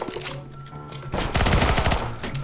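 Loud rapid automatic gunfire in the CS:GO video game, a dense burst building in the second half and ringing out close and clear.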